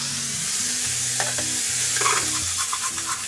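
Cabbage, onion, ginger and meat stir-frying in oil in a pan for miso ramen, a steady close sizzle broken by scraping stirs and light clatter, with no voices.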